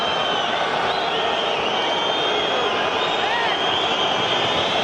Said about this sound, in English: Not sure why the crowd is whistling.